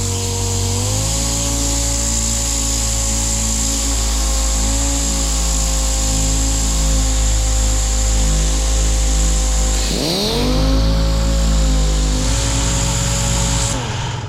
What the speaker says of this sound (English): I'm going to take my DA with some 80 grit and we'll sand this down